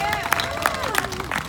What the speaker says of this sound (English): Let's give a big round of applause to my mother